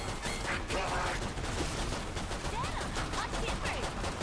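Rapid gunfire in the video game Killing Floor 2, dense overlapping shots crackling continuously under busy game noise, loud and sustained without a break.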